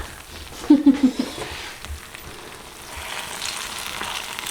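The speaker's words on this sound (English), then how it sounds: "Listen to that sizzle." Food sizzles and crackles in a frying pan, with a brief louder burst of spattering early on and a steady hiss afterward.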